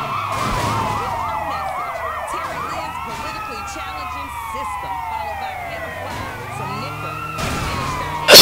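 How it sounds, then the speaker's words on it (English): A wailing ambulance siren in the video game Sleeping Dogs sweeps up and down steadily over several seconds, loud and close, with a game's traffic and engine rumble beneath it. "Is this a... ambulance?"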